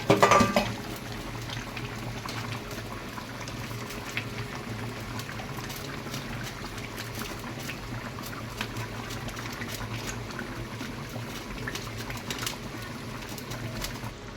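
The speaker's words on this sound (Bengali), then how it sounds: "এটা সিদ্ধ করার জন্য রেখে দিচ্ছি হাই ফ্লেমে কিছুক্ষণের জন্য।" Fish soup with potatoes boils on a high flame, a continuous close bubbling and simmering with soft clinks near the start, with no talk.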